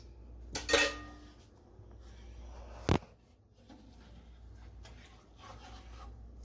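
A utensil stirs stroganoff ingredients in a pan, giving a few close metallic clinks and one sharp scrape, with quiet rubbing between them.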